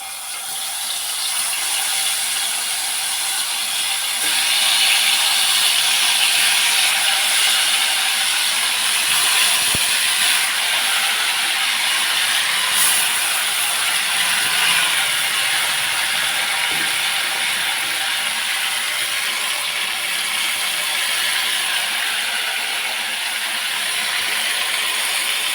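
Mushroom pakodi frying in hot oil gives a steady, dense crackling sizzle that holds loud and even across the whole stretch, with no talking over it.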